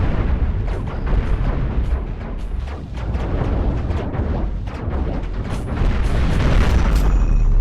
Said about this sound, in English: the missiles are going to come around and kablamo